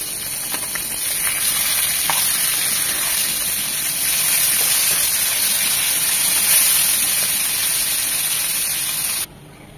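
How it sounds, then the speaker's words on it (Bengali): Kachki fish fry crisp in hot oil in a pan, giving a loud, dense, steady sizzle with faint crackles throughout, cutting off abruptly at the end. "মাছগুলো একদম মচমচে কড়া করে ভেজে নেব"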